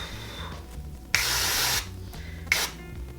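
L'Oréal Colorista hair colour spray being applied to hair: two sharp aerosol hisses, the first lasting well over half a second and the second a short burst, close and loud against a quiet room.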